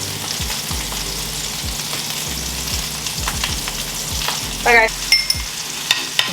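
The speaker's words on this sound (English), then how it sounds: "The rest I'm going to actually let cook a little bit in the grease." Garlic and dill topping frying in grease sizzles loudly and close, with rhythmic scraping stirs throughout, a short burst of clatter near the end and a single brief spoken word.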